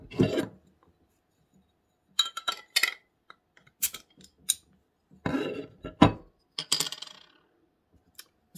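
Beer from the Boon Doggle bottle by Ringwood Brewery is handled and poured into a glass, giving a string of sharp glassy clinks and clatters with short pours and quiet gaps between them, close up and with no talk.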